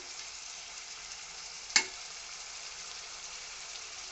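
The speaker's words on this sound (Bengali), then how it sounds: "আমার মশলাটা কষানো হয়ে গেছে, তেল উপরে উঠে আসছে" Spice paste sizzles and fries steadily in hot oil for a bottle gourd and shrimp curry, a constant soft crackle with a single sharp click midway.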